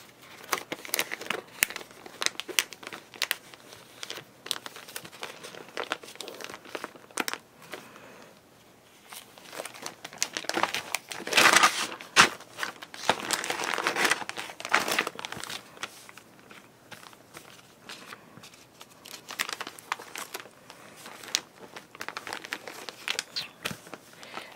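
A hot knife tip slitting a plastic journal cover along its sewing line makes a long stretch of close, irregular crackling and crinkling, with a denser, louder patch midway and no talking.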